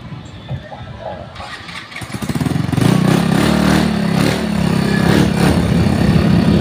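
Motorcycle engine fuelled with the wrong gasoline, starting up and running loud and rough with uneven sputtering, close by, with no talk over it.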